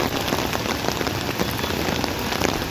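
Heavy rain pours down in Delhi-NCR, a loud, dense, unbroken hiss of drops striking surfaces, with no voices.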